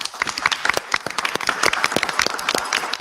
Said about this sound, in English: I just want to give Morrow a thunderous applause because they're doing great things.